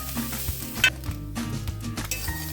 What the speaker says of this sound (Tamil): இந்த தேங்காயையும் கொஞ்சம் அதில் வறுத்துக்கோங்க